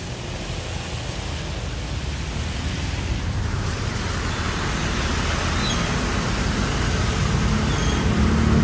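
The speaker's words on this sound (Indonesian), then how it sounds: "Karena ini hujannya deras banget." Heavy rain pours steadily over a new Rosalia Indah intercity bus on a Jakarta to Batujamus trip, a dense, constant hiss that slowly grows louder, with no talk.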